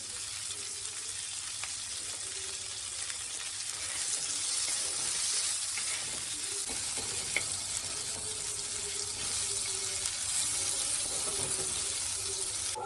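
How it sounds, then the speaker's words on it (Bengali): Onions frying in a pan for a Bengali mutton curry, a steady close hiss that runs unbroken throughout without any talk. "পেঁয়াজটা ভাজা হয়ে গেছে"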